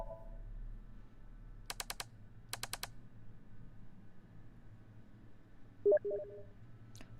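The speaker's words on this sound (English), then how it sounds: "let's spin the dial." Spinning the dial of a CRT TV in The Somnium Files video game produces two quick bursts of rapid clicks, then a short electronic tone later, all faint over a quiet low background.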